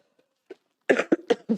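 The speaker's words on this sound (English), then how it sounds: "I'm just going to cough slightly, so cover my mouth" A short burst of three or four close, muffled coughs in quick succession after a brief quiet moment, during a cabinet meeting.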